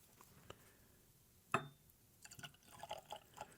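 Bullet bottled-in-bond bourbon poured into a glass, a sharp splash followed by a run of faint drips and small liquid trickles, close and quiet with no talking.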